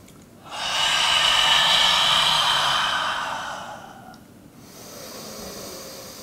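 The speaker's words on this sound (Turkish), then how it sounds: "Tekrar derin nefes al." A long, deep yoga breath, heard as a close, loud exhale that rushes steadily for several seconds and then fades, followed by a softer breath afterward.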